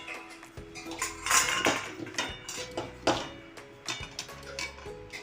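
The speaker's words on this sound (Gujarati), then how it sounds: "કુરિયા રાઈના બધું આપણે મિક્સ કરી દેવાનું છે" Split coriander seeds, mustard seeds and chili powder are mixed in a hot pan for mango pickle, with a spoon scraping and clinking against the metal in irregular, moderately loud strokes.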